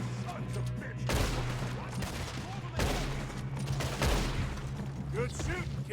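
Gunfire from a train robbery shootout in Red Dead Redemption 2: three loud bursts of shots over a constant rumbling game background.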